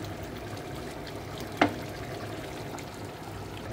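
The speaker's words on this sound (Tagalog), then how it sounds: "gusto ko niluluto kong maigi talaga ang chicken" Spicy chicken curry sizzles and bubbles gently in a pan, a steady soft frying hiss broken once by a short sharp clink of a utensil.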